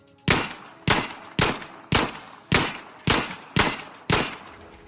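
Eight evenly spaced pistol shots from an insurgent Makarov sidearm in Insurgency: Sandstorm, fired in quick succession at targets, each a sharp loud crack with a short decaying tail, no talking.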